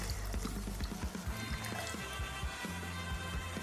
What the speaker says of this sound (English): So transfer it into a pot and go ahead to add some water.